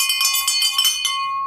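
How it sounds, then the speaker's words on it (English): A bright metal bell rings rapidly and loudly for about a second, then a single clear tone hangs and fades, with no voices over it. "I can't wait to hear that bell."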